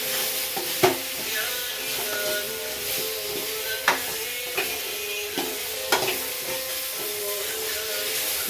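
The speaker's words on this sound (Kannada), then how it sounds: "ಸ್ವಲ್ಪ ಫ್ರೈ ಆಗ್ತಾ ಇದೆ." Thickly cut ridge gourd pieces frying in a pan with a steady sizzle, while a spoon stirs and scrapes at intervals, giving several distinct knocks over the hiss; no talking.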